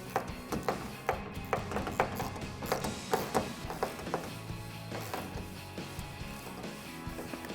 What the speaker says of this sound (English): So grab a 12mm hex socket and tighten this down.